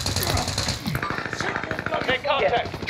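Gunfire in Call of Duty Warzone on Rebirth Island, rapid automatic bursts with rattling repeated shots, loud and close, with a voice speaking over the firing.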